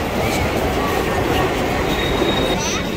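Mumbai local train rolling past at a steady, close, continuous rumble with rail clatter and faint metallic squeal, while people talk quietly underneath.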